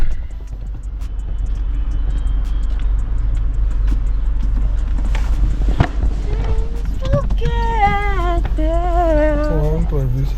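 A new car is driven, its engine and road rumble steady and fairly loud throughout, with voices talking over it toward the end.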